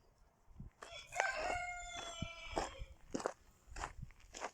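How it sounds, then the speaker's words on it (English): Roosters crow near a village bus stop during a long walk in Lithuania, one drawn-out cock-a-doodle-doo at moderate distance, surrounded by shorter clucks and a few fainter calls, with no talk. "and you have roosters."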